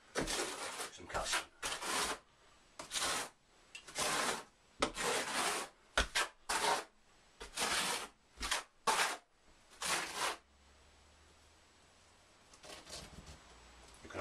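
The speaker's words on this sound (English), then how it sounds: "You hear your trowel scrape." A trowel scrapes tile adhesive across a shower wall in a static caravan, a series of rough, rasping strokes in quick bursts that stop near the end, leaving a quiet stretch.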